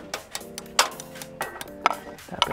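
A hammer taps a screw into a hole with a mounting anchor, sharp light knocks coming irregularly, five or six hits close by, quiet between strikes.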